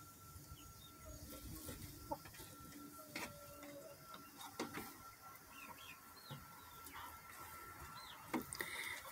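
Chickens inside a chicken house give soft, scattered clucks and short calls at a distance over a steady low background hum, with occasional brief clicks and taps.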